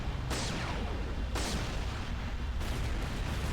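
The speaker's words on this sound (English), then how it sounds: "So you're actually triggering the explosion." Video game explosions triggered by the Magnum in Resistance: Retribution come as several heavy booming bursts layered over a constant dense rumble, loud and close, with no talking.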